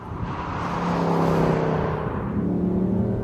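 A 2010 Mercedes-Benz C300 C-Class accelerating hard, its engine note rising into a loud, whirring surge that swells in the middle and holds steady with no voices over it.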